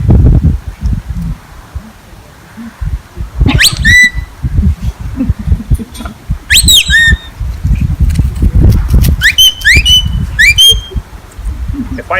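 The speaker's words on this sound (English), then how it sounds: "If the dog is working at a distance, much easier communicate by whistle." A shepherd whistling signals to a working sheepdog out on the hill in Ireland: several sharp, rising and falling whistle blasts in separate bursts, over heavy wind buffeting and rustling outdoors.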